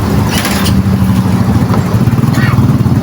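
A Yamaha Mio 125 motorcycle engine with an Error 46 charging-system fault rumbles steadily at close range, a low continuous drone with faint higher rattles above it.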